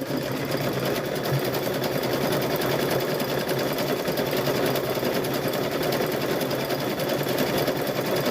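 A sewing machine stitching tote bag straps runs in a steady, fast needle clatter, close and even, with no pauses.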